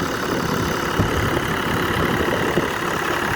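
A second-hand diesel tractor, whose engine is also fitted in the New Holland 4710 and larger Massey models, runs steadily at low rpm while pulling a load, with a loud continuous rumble and clatter throughout.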